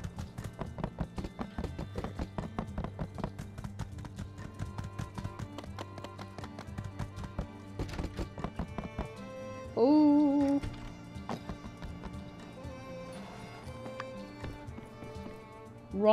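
Horse hooves clip-clop in a quick, steady galloping rhythm in the farming game My Time at Sandrock, set over game background music, with a brief louder game sound partway through.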